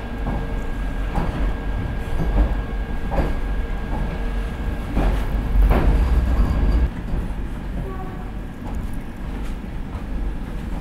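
Vande Bharat Express train rumbles at a station with a low, steady drone and faint rhythmic clicks, loud and close throughout.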